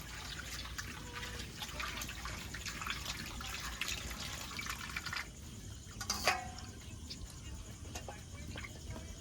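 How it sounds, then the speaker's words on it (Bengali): Chicken meat is washed under running water in a kitchen, giving a steady trickle with soft splashes and a brief louder slosh near the end; no one speaks. "মাংসটা এবার ভালো করে ধুয়ে নেব।"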